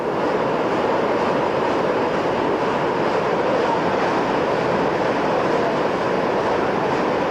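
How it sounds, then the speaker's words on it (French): Water cascading and roaring through rock and lush vegetation near an underground cave in Mexico: a loud, steady, broadband roar runs unbroken and close throughout, with no voices. "L'eau cascade de partout et gronde dans un vacarme assourdissant."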